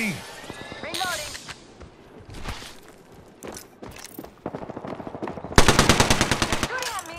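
Automatic gunfire rings out in the battle royale game Apex Legends on PS4, with scattered shots early and then a loud, rapid sustained burst near the end, mixed with game effects and spoken voices.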